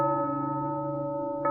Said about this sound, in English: More bells ring, coming from the estate.